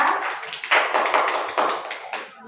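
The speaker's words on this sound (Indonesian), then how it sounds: "cuma tepuk tangan dulu untuk Kak Tiara" A classroom of students claps for a classmate during a mathematics micro-teaching lesson, a brisk dense round of hand claps swelling and fading in waves, close and fairly loud.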